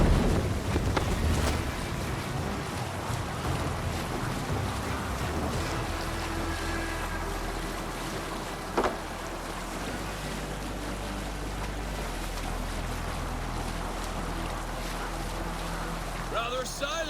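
A Viking longship under oars and sail in Assassin's Creed Valhalla, with steady wind and water washing against the hull, a continuous rushing bed and a single knock partway through.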